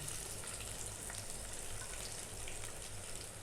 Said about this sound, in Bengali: কিছুক্ষণ ভেজে নেব একটু নরম হয়ে আসলে আমি মশলাগুলো দেব